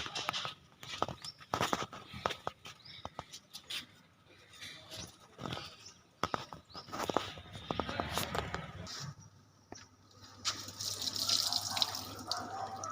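On a terrace garden, water is drained out, with faint splashing, trickling and dripping at low volume, mixed with shuffling, clatter and quiet outdoor background.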